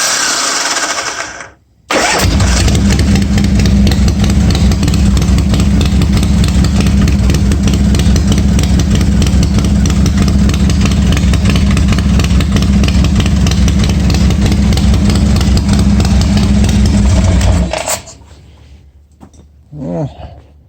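A 1986 Harley-Davidson Softail fires up after a brief starter crank and settles into a loud, steady, lumpy idle close by for about fifteen seconds before shutting off, leaving quiet with faint sounds.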